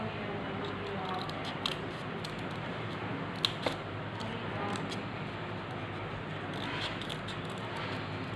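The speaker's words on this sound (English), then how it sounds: "Now we will take scissors and cut." Scissors snip through folded paper while paper flowers are made, a few sharp cuts and rustles standing out from a quiet room, with no one speaking.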